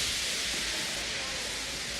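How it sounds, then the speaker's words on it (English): A steam locomotive in a train simulator remake lets off steam as a steady, broad hiss that holds evenly throughout. "He just let off steam feebly."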